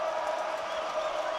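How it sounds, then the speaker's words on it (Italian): A dense, steady roar of crowd applause and cheering fills a Calcio Storico Fiorentino match in Florence, the 2018 Bianchi versus Verdi semifinal, heard as continuous distant wash without breaks. "Si mettono un grande applauso tutti, bravi, perché bravi."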